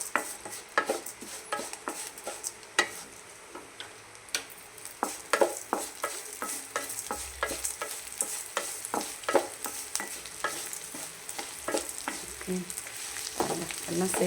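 Pirandai thiyal ingredients, all mixed together, stir-fry in a pan, with a steady sizzle under repeated scraping and clinking strokes of a spoon, close by and fairly loud, with no talking.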